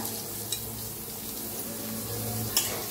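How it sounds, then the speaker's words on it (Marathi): Cumin seeds and onion fry in hot oil for a spiced egg curry, making a continuous soft sizzle with a couple of brief clinks from a stirring spoon against the pan, close up and without speech. "तेलात जिरं टाकूया, 1 चमचाभर जिरं चांगलं भाजले ते त्याच्यात टाकूया कांदा"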